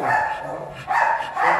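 Dogs bark at a kennel in two short bursts, fairly loud and close, with some background noise between them.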